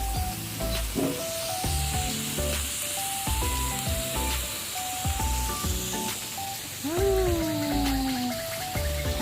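Steady sizzling and crackling of pork frying on a hot tabletop grill (Thai mookata), with clinking utensils and faint background music throughout.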